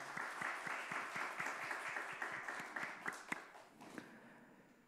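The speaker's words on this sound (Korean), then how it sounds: "우리 박수로 격려하십시다" A church congregation claps together, a dense run of fairly soft applause with a loose rhythmic beat that tapers into a few scattered claps.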